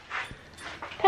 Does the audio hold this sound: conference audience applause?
no